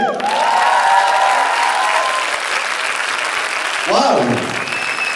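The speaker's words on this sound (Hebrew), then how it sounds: "קבלו בהרבה מחיאות כפיים את עמית זאב." A crowd at a vegan congress stand-up show applauds comedian Amit Zeev: loud, steady clapping fills the room throughout, with a brief rise near the end.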